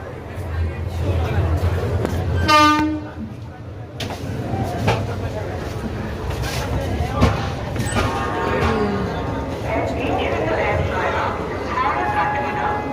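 Busy platform ambience as a train waits at Howrah station for the Katihar weekly express: a steady crowd hubbub with clatter and scattered knocks, and a brief tonal horn-like call early on.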